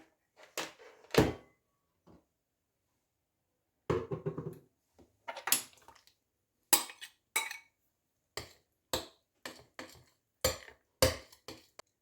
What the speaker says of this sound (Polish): Następnie dodajemy masło i całość mieszamy.